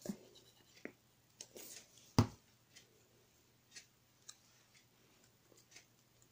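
Glue is dabbed onto a paper craft card piece, producing soft scratchy taps and rubbing ticks with one sharper knock, all close and fairly quiet against a faint steady hum.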